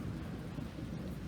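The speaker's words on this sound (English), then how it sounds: "You guys can hear that thunder in the background." Thunder rumbles low and steady through falling rain at a home garden, a continuous close roll that fills the whole stretch with no voices.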